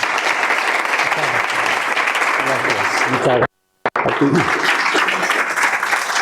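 An audience at a talk applauds with steady, full clapping that breaks off in a brief silent gap. Someone speaks over it near the end.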